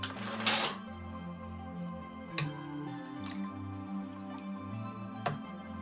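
Turnips being stirred in water in a wok, giving intermittent splashes, drips and a few sharp clinks against the pan over a steady low background hum, with no talking.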